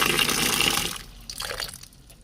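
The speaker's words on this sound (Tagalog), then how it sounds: "Lagyan natin siya ng tubig haluan na natin siya guys" Water pours into a pot of jackfruit for ginataang langka, a loud splashing gush that stops after about a second, followed by softer sloshing and clinks as it settles.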